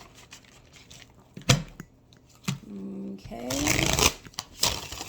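Tarot cards being shuffled in quick riffling bursts, with a louder riffle near the end; a person briefly speaks at the start.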